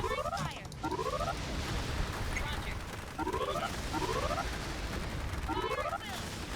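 Sustained gunfire and battle noise from the real-time strategy game Forged Battalion, a dense continuous rattle of shots with booms, overlaid by repeated short rising unit-acknowledgement voice calls.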